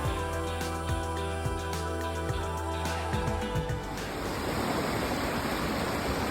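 Cold mountain stream water rushes steadily at Shahdag in Azerbaijan, a dense continuous hiss that takes over after a stretch of musical tones in the opening seconds.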